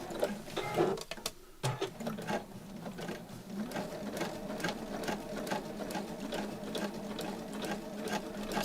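A domestic sewing machine stitches in a close, steady mechanical whir with rhythmic clatter, briefly interrupted by a few knocks near the start before running on evenly.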